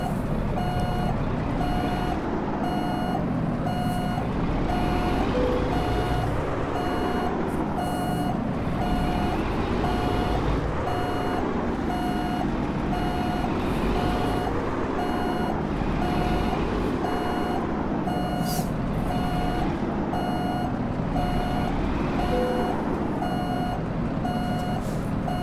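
A truck backing a trailer into position in American Truck Simulator gives a steady series of reversing beeps over a continuous engine drone, with a wavering whine rising and falling beneath.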